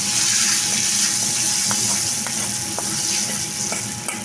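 Tempering for raw mango tamarind curry (pachi pulusu) sizzles steadily in hot oil, with cumin, mustard seeds, dried chillies and curry leaves crackling and popping intermittently near the pan.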